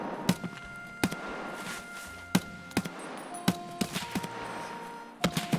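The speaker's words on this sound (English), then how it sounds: "sniper fire, sit down." Sniper rifle shots in the video game Escape from Tarkov, a series of sharp cracks at irregular intervals with a few quieter distant pops between them, over faint background ambience.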